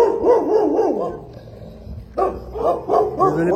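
Several dogs bark and bay in a loud, wavering chorus close by, pausing briefly before another round of sharp barks and howling yips breaks out.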